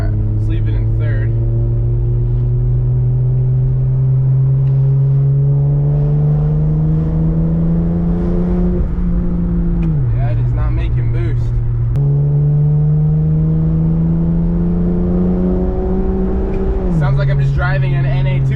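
A turbocharged 2JZ engine in a Lexus GS300 pulls hard in third gear, a loud, close, rising engine drone climbing in pitch over two long acceleration runs, each ending in a sharp drop, with turbo whoosh between them.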